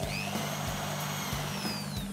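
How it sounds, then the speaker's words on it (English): A power drill bores holes through sheet metal for a post-apocalyptic arm protector, its motor a steady whine with rhythmic pulses and a faint rising pitch sweep, heard near and alone. "Drilling from the inside here because of the mesh."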